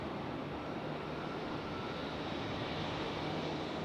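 Small general aviation aircraft inbound at Raleigh-Durham International Airport, a steady engine drone heard from a distance, even in level for a few seconds with no voices.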